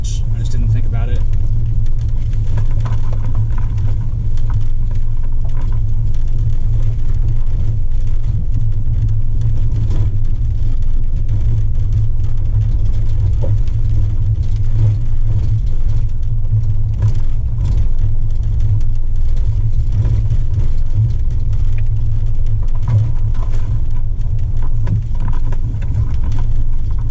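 A car drives steadily along a road on the return from Babbitt Overlook, its engine and tyre rumble a loud, constant low drone that fills the whole stretch without letup.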